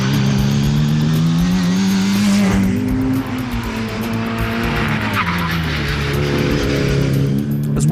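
A Mini fitted with a 1460 cc A-series engine revs hard and loud at close range, its deep, aggressive note rising and falling in steady sustained pulls through the whole stretch, with no talking.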